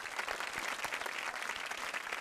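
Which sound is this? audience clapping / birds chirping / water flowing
audience clapping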